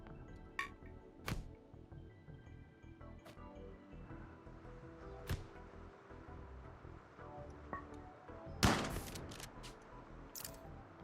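Sharp shotgun blast fired point-blank in the RimWorld video game, one loud burst standing out over busy background game noise, with a few fainter shots scattered around it.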